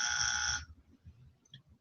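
A single loud electronic buzzer blast lasting about half a second, a harsh steady tone that cuts off abruptly, leaving faint background noise.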